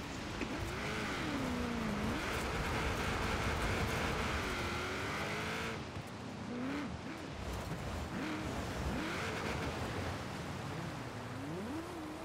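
Sustained engine drone of a car in the racing game Forza Horizon 4, loud and steady with rising and falling revs over a wash of road and water noise, no voices.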